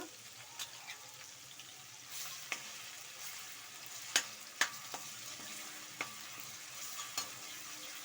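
Ginger garlic paste with green chilli paste frying in a pan for chilli chicken, a soft steady sizzle under occasional sharp scrapes and clinks of a stirring spoon.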